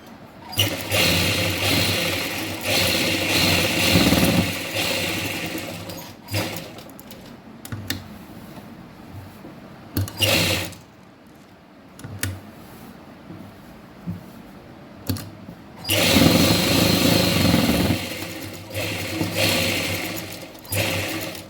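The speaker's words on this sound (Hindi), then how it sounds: "अब हम इसके चारों साइड एक एक पैर के गैप में सिलाई लगा देंगे।" Sewing machine stitching a salwar, loud steady whirring runs of several seconds at the start and end, with quieter short bursts and handling noises in between, close up and without talk.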